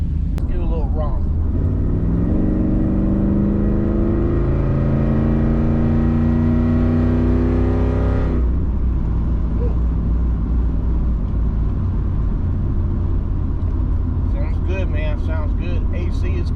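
Chevrolet Z28 with a big-cam engine pulling away, a loud throaty rising engine note building for several seconds before easing into a steady, lower rumble as the car cruises, heard from close by with a voice talking briefly near the end.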